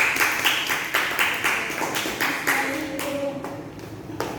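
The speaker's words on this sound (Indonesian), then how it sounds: "beri tepuk tangan untuk teman-temannya" A class of students claps in a loose, rapid patter that carries on steadily throughout a classroom, with a faint voice partway through.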